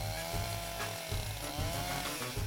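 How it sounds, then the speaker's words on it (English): A chainsaw carves a sculpture out of dense wood in an Anguilla studio, its engine droning loud and close with repeated surges as the blade bites in and eases off. "he uses the oh-so-delicate touch of his chainsaw to reveal what's"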